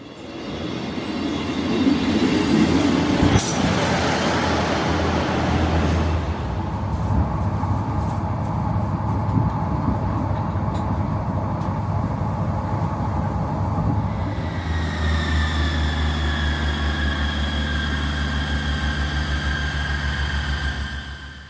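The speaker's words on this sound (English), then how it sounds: "we are waiting for the 10:39 ScotRail service to Montrose, and the next station we are going to is Laurencekirk" A ScotRail train runs on the line from Aberdeen towards Laurencekirk with a steady, close wheel-and-engine rumble and one sharp clank early on, then a rising tonal whine takes over near the end.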